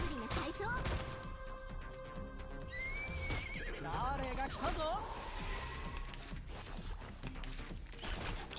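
A horse whinnies in the game Reverse 1999, a high wavering neigh in the middle of a busy stretch of game sound effects and music, with a voice talking over it.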